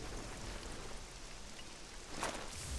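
Steady rain falls all around in Castlevania: Lords of Shadow, a dense hissing patter with no pauses, and a slight swell of heavier drops near the end.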